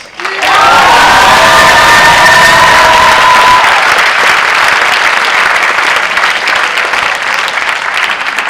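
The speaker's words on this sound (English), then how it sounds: "I would like a big round of applause for Miss Slobitz" A high school senior awards audience breaks into loud, sustained applause with cheers and whoops for a school staff member, starting abruptly and holding steady throughout with no talking.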